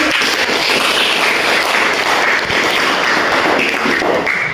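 A class of students claps in a classroom, making dense, loud applause that continues without a break for several seconds.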